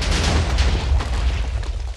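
A Minecraft TNT cruiser missile detonating, two TNT blocks firing together: a loud, continuous low boom and rumbling blast filling the whole short span, dense and heavy without a break.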